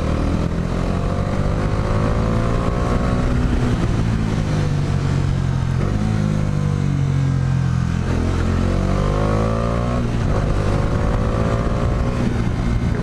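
Bajaj Dominar 400 motorcycle engine roaring steadily under load during a test ride, with a deep, continuous exhaust note rising and falling as the rider shifts and accelerates, close and loud with wind noise.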